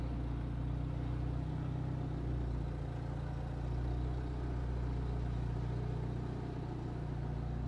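A 1957 Triumph TR3A's engine runs at a steady idle just after a cold start, a continuous low, even rumble heard close and alone.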